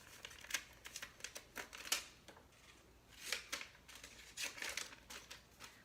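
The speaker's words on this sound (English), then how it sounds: "So let me take my scissors and just trim that off." Scissors snipping through an adhesive sheet, a series of sharp irregular cuts and crinkles, close up and quiet, with short pauses between snips.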